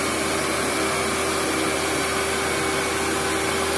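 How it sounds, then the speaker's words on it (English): An upright vacuum cleaner runs over carpet with a loud, steady motor drone and a faint whine, close and constant for the whole stretch. "when I'm vacuuming with this machine, I vacuum as fast"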